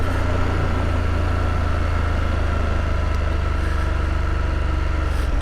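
A BMW F850GS motorcycle engine drones steadily and loudly while riding on a road, a constant low rumble with no talking.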